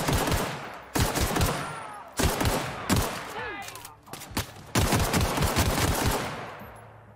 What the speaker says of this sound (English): we'll see if we can give this guy a couple quick headshots